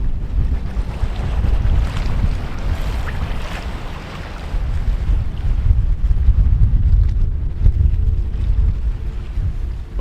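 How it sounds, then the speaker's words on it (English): Strong north wind blowing hard across the open Barrenlands of Nunavut near Nueltin Lake, a loud, continuous roaring buffet with gusty surges and heavy rumble, no voices. "wind continues to be a primary theme on this trip, specifically a north wind. It's still blowing hard"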